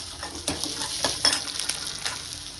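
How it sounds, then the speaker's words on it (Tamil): Manathakkali greens sizzling in hot ghee in a pan with vadagam and small onions, a soft continuous crackle with occasional stirring scrapes, close up and without voices. "அது கூடயே கீரை நெய்யிலேயே வதக்கிட்டு"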